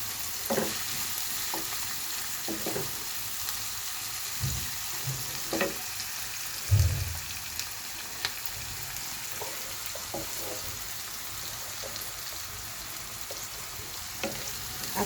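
Tomatoes frying in a pan give a steady soft sizzle, with occasional scrapes and knocks as they are stirred; no voices.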